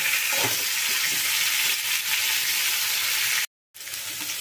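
Pumpkin pieces sizzle and spit in hot oil over a high flame, a steady loud crackle running unbroken with a brief cut near the end.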